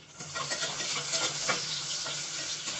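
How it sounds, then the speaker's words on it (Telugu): One large onion, cut lengthwise, frying in hot oil in a pressure cooker: a steady, soft crackling sizzle with faint stirring scrapes, continuous and fairly quiet, with no one talking. "ఆయిల్ హీట్ అవ్వగానే ఒక పెద్ద ఆనియన్ పొడవుగా కట్ చేసుకొని ఫ్రై చేసుకోండి"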